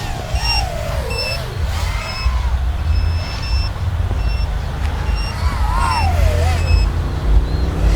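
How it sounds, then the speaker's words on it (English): A KINGKONG FLY EGG 130 FPV racing drone whines and swoops as the throttle is punched, with short, high-pitched beeps repeating through the flight. "So we're getting beeping when it punches only."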